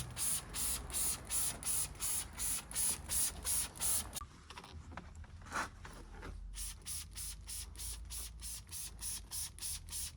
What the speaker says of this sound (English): And then when we spray it on like this